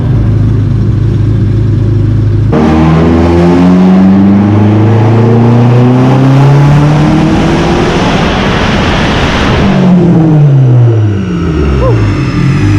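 Big-turbo Dodge SRT-4 engine on a dyno in a third-gear pull, very loud and close, its pitch sweeping steadily upward for several seconds before cutting off and winding down.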